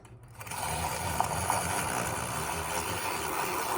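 A Kiwi milk frother starts with a click and then runs at a steady, even whir, a close continuous mechanical hum without speech.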